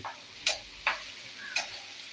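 Chicken fries in a pan under a low, steady sizzle, punctuated by three sharp clicking knocks of a utensil against the pan.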